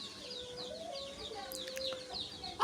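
Chickens cluck softly in a village yard, brief faint calls over a quiet, steady background, some distance from the microphone.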